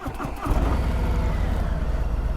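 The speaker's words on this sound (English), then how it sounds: "Now we're going to start the motorcycle." A motorcycle engine cranks and catches, then settles into a steady, loud rumbling idle close by.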